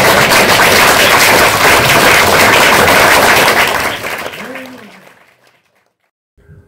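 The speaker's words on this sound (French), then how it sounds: "Et je vous demande une salve d'applaudissements." An audience at the Prix Allaisiens 2023 award ceremony at the SACD applauds a four-member musical group. The dense, loud clapping is sustained for about four seconds, then fades out, followed by a brief voice.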